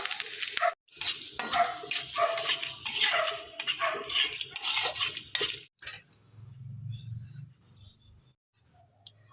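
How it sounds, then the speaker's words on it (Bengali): Whole cardamom, cumin seeds, dried red chilli and bay leaf spluttering in hot oil for a Bengali cauliflower muri ghonto tempering, a dense crackling sizzle that stops abruptly partway, leaving only faint low kitchen rumble and scattered clinks. "ফোড়নে দিয়ে দিলাম আমি গোটা এলাচ একটু ফাটিয়ে দিয়ে দিলাম ফোড়নে, একটু কাঁচা জিরে দিয়ে দিলাম, আর দিয়ে দিলাম শুকনো লঙ্কা, তেজপাতা"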